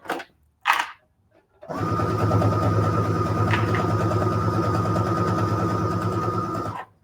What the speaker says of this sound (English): when you get ready to sew your coasters together, you want to backstitch at the beginning and the end